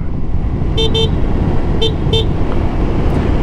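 Four short beeps of a Royal Alloy Tigara Grande 300 scooter's stock horn in two quick pairs, sounding over a loud, rumbling idling engine.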